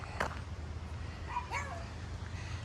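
Small puppy dogs yip and whimper a few times at a lakeside campground in March, faint and somewhat distant over steady low background rumble.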